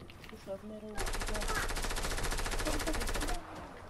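Rapid automatic gunfire in the video game Fortnite, a loud sustained burst of about two and a half seconds of evenly spaced shots, following a brief stretch of someone talking.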